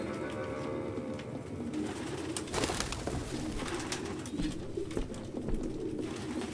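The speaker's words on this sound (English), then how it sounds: "No human could live with all these fucking pigeons." Pigeons coo steadily through a cluttered room in the Detroit: Become Human video game, with soft repeated calls and occasional rustling and flutters in the background.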